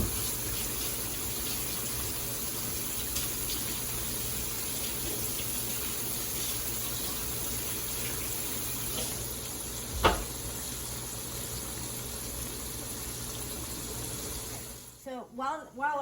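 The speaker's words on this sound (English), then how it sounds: "I'm going to wash my hand" Tap water runs steadily into a kitchen sink for hand washing while chicken nuggets fry nearby, a constant close hiss with a brief clunk near the end and a faint background voice.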